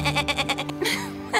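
A small goat bleats in a run of quick, wavering pulses, loud and close, followed by a brief higher cry near the end.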